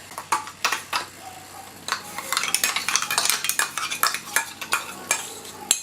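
Jackfruit erisseri paste being stirred in a clay pot, giving a steady run of close, rhythmic scraping and clinking strokes of a spoon against the pot with no talk.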